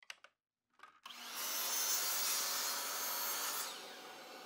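A miter saw with a zero-clearance insert slices through a piece of plywood. A few faint knocks come first, then a loud, steady whining cut lasting about two and a half seconds that tapers off as the blade winds down.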